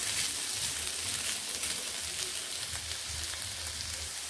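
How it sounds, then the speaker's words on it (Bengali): Potatoes frying in a pan over a medium flame give off a steady, even sizzle throughout, close and unbroken, with no voices over it. "এবার আমি আলুগুলোকে মিডিয়াম ফ্লেম করে বেশ ভালোভাবে ভেজে নেব"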